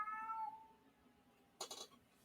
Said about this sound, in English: my cat's just screaming in the background